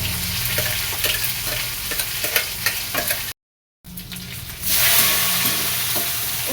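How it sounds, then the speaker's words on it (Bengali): Ground leaf paste with nigella seeds frying in hot oil, a steady loud sizzle with stirring scrapes, briefly cut off, then swelling into a stronger hiss. "কালো জিরে ফোড়ন দিয়েছি তেলে দিয়ে এই যে দেখো চাপিয়ে দিলাম"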